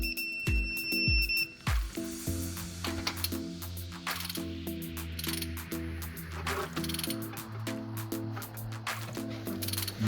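A ratchet or torque wrench tightens cylinder head bolts on a 1997 Ford F-150 4.6L V8, giving steady close ratcheting clicks with a few short pauses and no talking.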